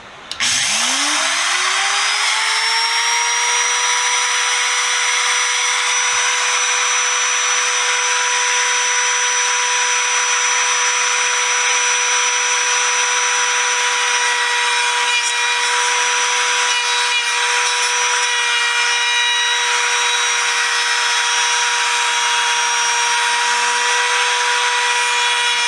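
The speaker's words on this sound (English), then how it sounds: "I'm going to attempt to route this right here" A router on a small router table cuts a wooden piece for a Millers Falls hacksaw restoration, spinning up and holding a loud, steady high-pitched whine with a constant tone throughout, close and alone.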